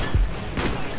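A single heavy Dragunov sniper rifle shot in Black Ops 1 multiplayer, a short, punchy blast that opens the moment and fades quickly under game ambience.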